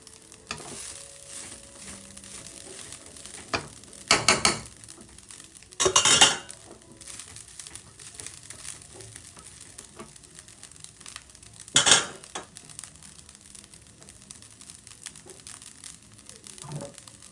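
Cold leftover garlic fried rice is toasted in a pan with a few loud scraping, clinking stirs of a utensil against metal over a low sizzle, with quiet gaps between strokes.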